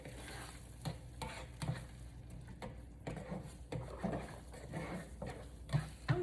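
A spoon stirs plant-based Just Egg scramble in a sizzling pan, making soft, repeated scraping strokes over a faint, steady frying hiss, quiet and close, with no talking.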